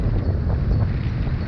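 Wind buffeting a sailboat out on Lake Michigan: a steady, low rushing roar of gusts across the microphone, constant and fairly loud for a brief moment, with no voices.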